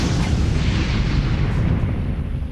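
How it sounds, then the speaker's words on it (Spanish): A loud, roaring explosion bursts a spacecraft's service module, a dense rumbling blast that fills the whole short stretch and fades slightly toward the end, with no voices. "La explosión había reventado el módulo de servicio y los gases salían descontroladamente al espacio."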